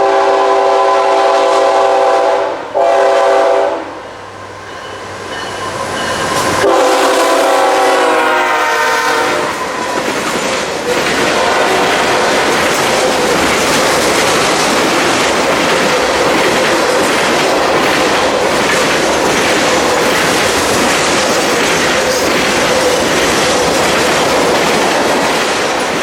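A CSX Q453 freight train led by locomotive 3433 blows a loud, sustained horn before rumbling past up close, its cars clattering in a long, steady roar for the rest of the passage.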